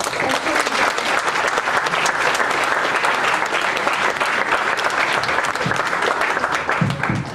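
Loud, sustained applause from a seminar audience at CCH Azcapotzalco welcomes a guest speaker, a thick continuous clatter of many hands clapping close by, with a faint voice near the end.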